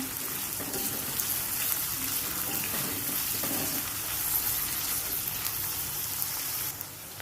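Onion and curry leaves frying in a pan until soft, a steady dense sizzle and crackle that holds evenly throughout, close and fairly loud with no voices.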